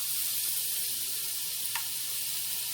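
Strips of bacon sizzle on a Rival electric griddle, a steady bright frying hiss that carries on evenly throughout with one brief sharper pop partway, and nobody talking.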